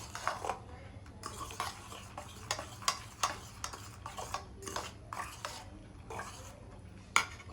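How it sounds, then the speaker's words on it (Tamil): Chopped onion is stirred into eggs for an omelette, giving repeated light taps and scrapes of a utensil against a bowl in a quick, uneven rhythm close by. "இதை வந்து இதில் போட்டுடலாம். நம்ம போட்டு மிக்ஸ் பண்ணிக்கிடுவோம்."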